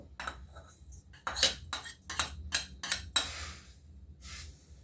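Panch phoron, a five-spice mix, is stirred in a pan for a vegetarian soybean and potato curry. A metal utensil scrapes and clinks in an irregular run of close strokes, with no talking.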